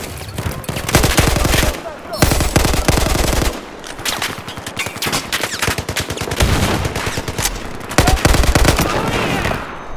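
Machine gun fire in the video game Propaganda, loud sustained automatic bursts in rapid rhythmic strings, with brief pauses between volleys and some speech mixed in.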